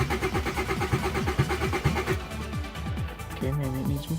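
A turbocharged Honda Civic with a D16Z6 engine being tuned in a garage, revving in quick repeated bursts that rise and fall, then settling and climbing again near the end, with voices talking over it at times.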